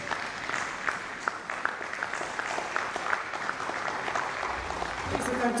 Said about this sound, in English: a round of applause for our Vice Chancellor